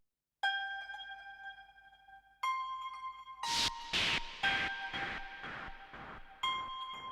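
Synth presets in Logic, a shimmering space harp and a hazy Fog Machine pad, ring out as sustained bell-like tones, with a rhythmic run of brighter plucked pulses in the middle, soft and spacious.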